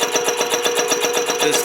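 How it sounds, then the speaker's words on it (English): A steady, rapid mechanical chugging with a pulsing rhythm from an air compressor in a 1997 Lexus LS400, running close by. "The phantom air compressor."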